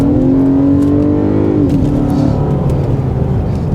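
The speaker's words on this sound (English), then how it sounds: "Do some high acceleration." Jeep Grand Cherokee accelerating hard, its engine note climbing steadily before a brief dip as it shifts, then pulling on with a loud, close, continuous drone.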